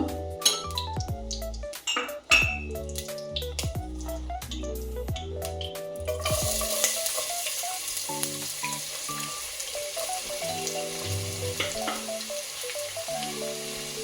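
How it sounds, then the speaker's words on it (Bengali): Onions fry in hot oil for pulao beresta, a steady close sizzle running throughout, at first under a bright melodic ringtone-like tune that stops partway, then continuing alone with faint clinks. "পেঁয়াজগুলো ভেজে নেব ভালো করে"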